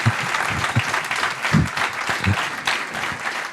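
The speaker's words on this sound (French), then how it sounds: "On peut vraiment l'applaudir." Conference audience at a Normandy circular economy debate applauds speaker Philippe Bihou, steady clapping from a modest room with a few heavier nearby claps and faint voices murmuring underneath.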